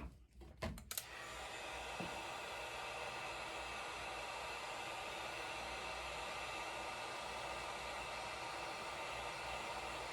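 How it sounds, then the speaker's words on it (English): A heat gun runs steadily to soften pipe for bending, a constant close whooshing blower hiss after a few brief clicks and knocks at the start. "Works better with this heat gun."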